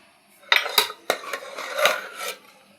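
Cooked lentils (dal) being mashed in a metal pot, several sharp clanks and scrapes of a utensil against the pot in an uneven rhythm, close and fairly loud with no talk.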